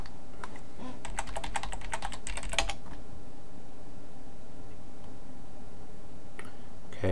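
Computer keyboard typing a sudo apt-get update command on Ubuntu 14.04, a quick close burst of key clicks over the first few seconds, then quiet room hum with a faint click near the end.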